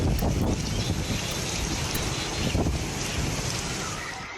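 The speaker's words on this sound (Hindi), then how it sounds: "चीन में तेज हवाओं के साथ भारी बारिश।" Heavy rain and strong wind lash Mudanjiang, China, as a loud, steady roar of wind-driven downpour and gusts buffeting the microphone, continuous and unbroken with no voices.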